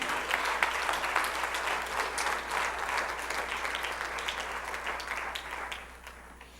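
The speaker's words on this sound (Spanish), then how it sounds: "Dele un aplauso al Señor" A church congregation applauds the Lord during a sermon. The clapping is sustained and moderately distant, then fades away toward the end.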